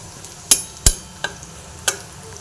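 Garlic browning in oil in a wok for a red amaranth greens dish, with a handful of sharp spatula taps and scrapes, irregularly spaced, over a faint low sizzle.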